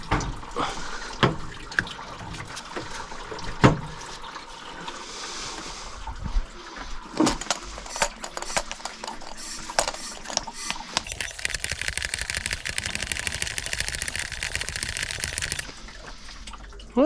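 Water trickles and splashes from a car radiator as it is bled, with irregular drips and gurgles, then a steadier hissing flow through the later seconds, close to the microphone.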